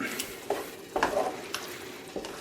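Spoon mixing egg quickly into hot marrow stuffing in a pan, a few soft scraping strokes at irregular intervals over a faint sizzle, quiet and close.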